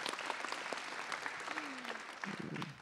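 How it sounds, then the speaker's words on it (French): Audience applause at a town's New Year greetings ceremony in Yerres, a steady dense clapping from a crowd sustained throughout, with a brief voice briefly surfacing partway through. "Oui, j'attends des applaudissements."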